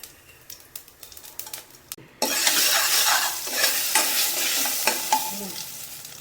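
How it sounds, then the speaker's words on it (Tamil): Light clicks give way to a sudden burst of loud, continuous sizzling and crackling as mustard seeds splutter and pop in hot oil. "இப்போ கடுகு வெடிச்சிருச்சு ஜீரகம் போட்டுக்கலாம்"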